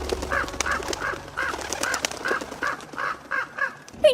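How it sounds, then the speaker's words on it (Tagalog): Large crows cawing in a rural Philippine village, a run of about ten evenly spaced, hoarse calls in steady rhythm, fairly close over faint background noise. "Biglang lumitaw ang malalaking uwak at sumunod sa amin."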